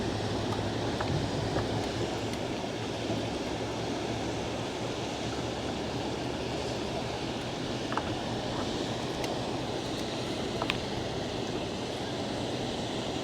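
Wind buffets a microphone outdoors during a fishing trip, a constant low rumbling roar with a broad hiss, steady throughout with only faint scattered clicks and no voices.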